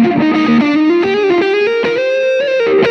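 Distorted electric guitar solo played through a Line 6 POD X3 Live with light delay, a thick singing lead line of sustained notes climbing steadily in pitch, loud and continuous with no talking.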